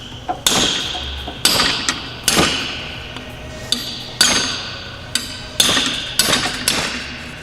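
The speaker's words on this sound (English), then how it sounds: "We're gonna use like a sharpened chisel and the power of Thor. Try to get up under there between the aluminum and that metal collar" A hammer drives a sharpened chisel between an aluminum air strut and its metal collar on an Audi SQ5 air-ride install, giving about ten sharp metallic blows at irregular intervals. The strikes are close and loud, each ringing briefly, with no talking.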